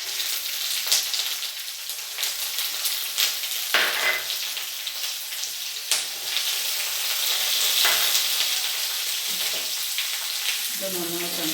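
Onion, ginger, garlic and curry leaves sizzle steadily in hot oil for a Kerala koottu curry, with a constant bright frying hiss broken by several sharper stirring scrapes of a spoon against the pan.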